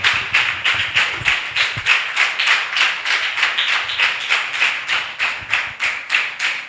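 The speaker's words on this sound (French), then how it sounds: "Applaudis pour le roi des rois." Church congregation at a French-language youth prayer gathering clapping hands in praise, a loud, steady rhythmic beat of roughly three claps per second, close and sustained throughout.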